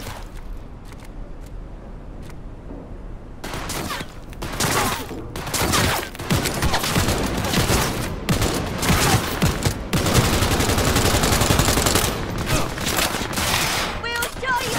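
Rapid gunfire from a weapon in the video game Cyberpunk 2077 crackles in dense bursts and fusillades, with a few sparse shots first and then sustained volleys, loud and close, with voice in the background.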